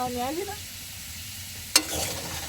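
Potatoes fry in a pan aboard a boat in the Sundarbans: a brief voice opens, then near quiet, then a sudden sharp hit followed by a short burst of loud, close sizzling.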